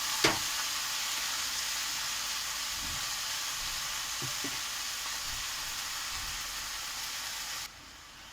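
Garlic and chilli already cooked in hot oil, with leafy greens added to the pan, give a steady close sizzle and hiss of frying that runs on evenly for several seconds, with a few faint knocks from stirring.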